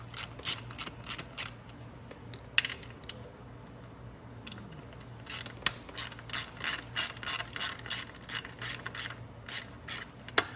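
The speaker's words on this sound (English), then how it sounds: "for that, you are going to need an 8mm socket" An 8mm socket ratchet works bolts loose on a Venom x18R 200cc automatic motorcycle, first a few scattered clicks, then a steady run of rapid ratcheting strokes in a quick, even rhythm, close and clear.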